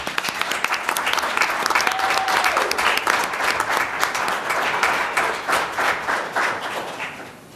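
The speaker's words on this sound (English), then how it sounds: "bring up with a round of applause" Audience at a City of Waukegan city council meeting gives a sustained round of applause, dense clapping from many hands that holds steady and fades out near the end.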